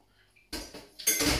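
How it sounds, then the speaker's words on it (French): An empty metal saucepan is set into a kitchen sink for washing up, making two close clanking knocks of metal on metal with no talk over them. "ma casserole là, elle est vide. Zéro souci. Elle part dans l'évier pour la vaisselle."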